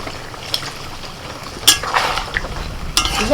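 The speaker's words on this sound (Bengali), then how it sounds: "এবার আমি একটু অল্প করে জল দেব" Water splashes into pepper chicken cooking in a pan, setting off two sharp sizzling bursts over a low, steady frying hiss.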